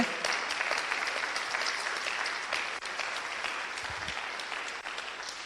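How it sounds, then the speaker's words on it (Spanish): Church audience applauding steadily for several seconds, a dense, even wash of many hands clapping at close range with no voices over it. "Si le vas a aplaudir, apláudele bien, por favor"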